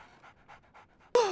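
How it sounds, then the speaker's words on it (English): Rhythmic panting from a dog in the video game Sherlock Holmes: The Awakened, several quick soft breaths close by, followed by a sudden louder bright burst at the end. "So, Barnes has a dog now."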